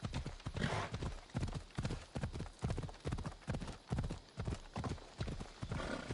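Horse hooves gallop in a steady rapid rhythm in Assassin's Creed Odyssey, loud and close, with no talk over them.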